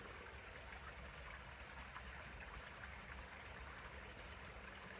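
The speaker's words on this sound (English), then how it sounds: "all you've got is the sound of water" A woodland stream runs down a hillside in Pembrokeshire, a faint, steady wash of water with no break or voices over it.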